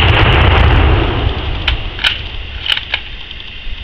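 Exploding rifle targets detonate when shot in the woods, a loud opening blast decaying into rumble, followed by a few sharp distant cracks and pops.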